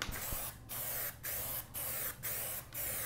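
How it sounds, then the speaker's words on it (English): Kilz Original primer sprayed from an aerosol can over marker on an interior wall, five steady hissing bursts of about half a second each with short pauses between, close and loud with no talking. "So little Kills Original in the spray can works wonderful for this"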